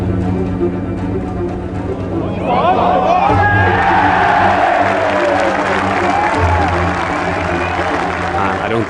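A large crowd at The Open golf championship roars with cheering and applause, a loud, sustained wall of whoops and clapping that swells after a couple of seconds and holds, with voices mixed in.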